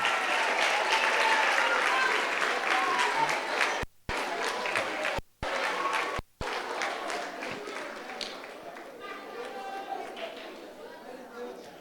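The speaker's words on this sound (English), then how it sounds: "Round of applause for Daniel Markey." A primary school awards-ceremony crowd gives sustained, loud applause for Daniel Markey, named male sports person of the year, with a voice talking over the clapping and a few brief dropouts.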